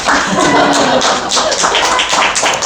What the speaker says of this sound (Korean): 박수를 쳐주셔야죠.